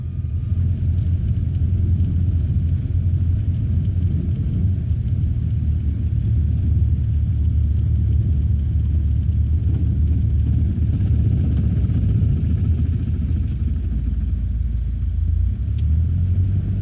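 A light training aircraft taxis briskly along an airfield runway, producing a steady, loud low-frequency rumble with engine drone and bumpy rolling noise that persists evenly throughout, without any voices.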